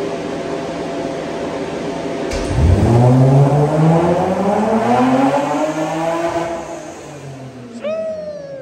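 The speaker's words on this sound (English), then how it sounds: "He's gonna do one last pull in first gear." A 1400 WHP Toyota Supra MK4 with a 2JZ engine makes a loud full pull in first gear, its pitch sweeping steadily upward for several seconds before a sharp cut and a brief rev at the end.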